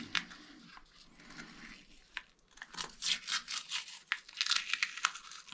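Close crinkly tearing and scratchy rustling of paper masking tape, growing into a fast series of rough rips in the second half.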